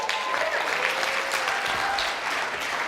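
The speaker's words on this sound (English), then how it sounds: "Give her a big round of applause." Audience at a college keynote breaking into a big round of applause, loud continuous clapping from a crowd filling the whole moment.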